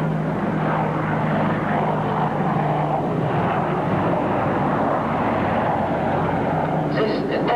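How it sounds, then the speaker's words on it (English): A Boeing AH-64 Apache attack helicopter passes overhead above an airfield, its steady engine and rotor roar loud and continuous throughout, with no break or fade. "Arrivant maintenant à la verticale du terrain, le AH-64 Apache, hélicoptère d'attaque avancé produit par la maison Young des États-Unis d'Amérique."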